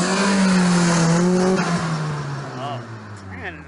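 Tuned car engine idling smoothly and revving, loud and close, with a steady low drone that rises in pitch and then settles, while someone talks over it.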